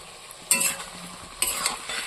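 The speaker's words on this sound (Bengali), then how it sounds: "এদিকে এই কুঁদরি ভাজি হচ্ছে" Ivy gourd (kundru) fries in a pan with a steady sizzle. Two sharper bursts of scraping and stirring rise above the sizzle, and there is no speech.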